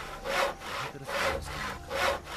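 Wood being sawn in the video game Gothic 2 makes three rhythmic rasping strokes, loud and close, with no voices.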